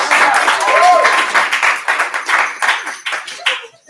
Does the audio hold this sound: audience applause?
yes